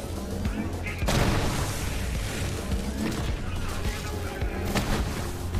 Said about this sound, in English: Shoot the barrels over there.